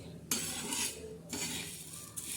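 Horse gram dry roasting in a pan without oil, bursts of rattling, scraping hiss as the seeds are stirred and tossed, three short surges close by, with no talking.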